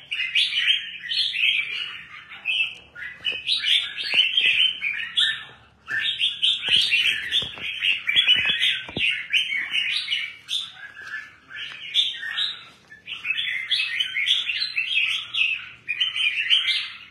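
Many small birds chirp and tweet continuously in a dense, bright chorus, with a few short pauses; no voices are heard.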